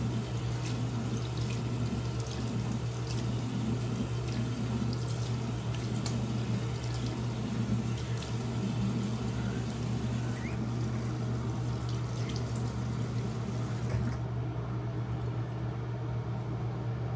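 Tap water runs steadily in a bathroom sink while a face is rinsed, a constant close wash of splashing water with a low hum beneath, easing off near the end.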